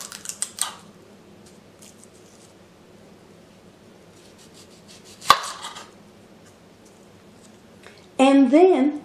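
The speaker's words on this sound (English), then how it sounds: "Use at least 1 to 2 yellow onions. Cut off both ends." A kitchen knife chops through the ends of a yellow onion on a cutting board: a couple of sharp, close cuts with a quiet stretch between them, and a voice briefly at the end.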